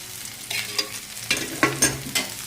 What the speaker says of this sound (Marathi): त्या मिरचीवर आपल्याला तेल टाकायचं